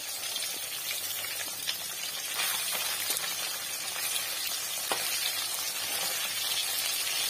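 Silver fish frying slowly in oil in a home kitchen, a constant bright sizzle with scattered crackles and pops, nearby and fairly steady, with no one speaking.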